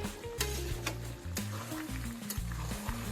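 Duck meat sautéed in oil with chui in a pan for Bengali duck curry: a continuous sizzle broken by repeated scraping stirs and sharp utensil clacks against the pan, close and fairly loud, with no talking.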